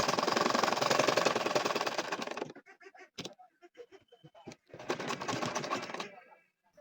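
A domestic sewing machine stitches a baby nakshi kantha quilt, whirring in a steady rapid run for a couple of seconds, pausing amid small clicks and handling sounds, then running again briefly before stopping.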